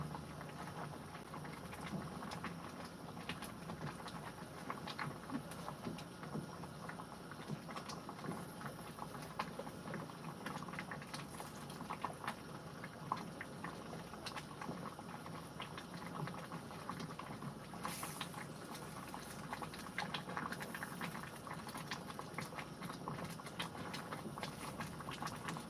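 Grits simmering in a pot, bubbling and splashing steadily with a dense, continuous wet burble that stays close and even throughout, with no talking.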